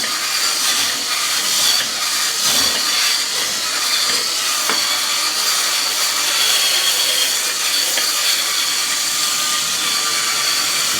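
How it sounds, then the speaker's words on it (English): A power scrubber working over moldy shower grout, a loud continuous buzzing scrub with rough hissing texture and slight rhythmic variation, close by and unaccompanied by speech. "you don't have to work that hard when the scrubber's working"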